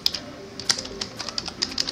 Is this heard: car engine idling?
no